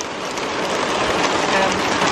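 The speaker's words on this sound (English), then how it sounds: "Seriously, this is heavy rain for us." Heavy rain pours outdoors in New Zealand, a dense, constant hiss of drops hitting surfaces, loud and close, with no talking.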